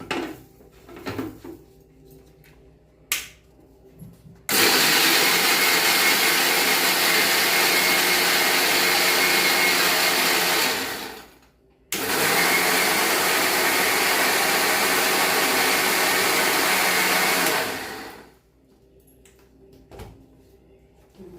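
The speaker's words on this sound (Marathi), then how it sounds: "तर हे मी काढून घेते मिक्सरमधनं बारीक करते ज्यूस" A kitchen mixer grinder blends melon juice with sugar, running in two loud continuous bursts with a brief pause between, preceded and followed by quieter clinks of the jar.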